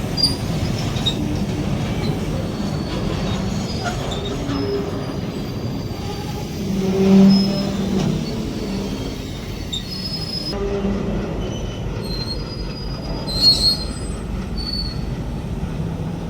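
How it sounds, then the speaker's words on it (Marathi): A train rolls along a new railway line between Navgan and Beed station, its wheels squealing steadily at close range over a continuous low rumble, with a couple of sharper screeches standing out. "ही रेल्वे ट्रेन नवगण वरून बीड या रेल्वे स्टेशनकडे जात आहे नवीन रेल्वे रोड घेऊन"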